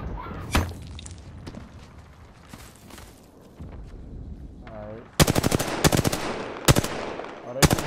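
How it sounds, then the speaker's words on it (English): Teams trade gunfire in Apex Legends: scattered thuds and distant shots give way to loud, rapid automatic bursts fired close in several quick volleys. "Oh, they shooting at another team."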